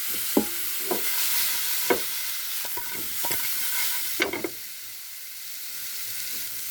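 Fish pieces go into a pan of browned, frying bitter gourd, with a steady oily sizzle under sharp clicks and scrapes of a spatula against the pan; close, with a hiss that drops slightly near the end and no voices.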